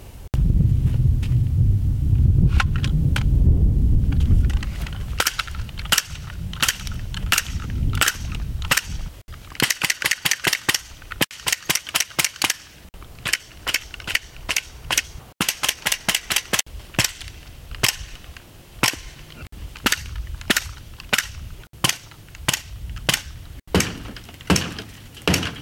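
A polymer AR-15 lower with a stuck case is mortared, slammed repeatedly: an opening low rumble gives way to long runs of sharp, loud impact cracks, sometimes rapid, sometimes spaced, with no talking.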